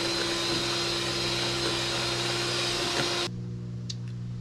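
Steady electric mixer whirring through egg, sugar, vanilla and sweetened condensed milk for old-fashioned vanilla ice cream, a close continuous motor drone that cuts off near the end, leaving quiet room tone.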